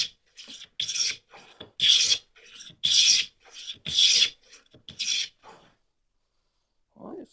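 A wooden hand plane shaves wood in a series of about seven close, rasping strokes, each a short scraping burst with brief pauses between, trailing off into quiet with a faint low knock at the end.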